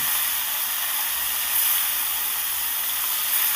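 Hilsa fish pieces frying in white oil in a kadai, producing a loud, steady, close-up sizzle and hiss that stays even throughout with slight swells, without any speech.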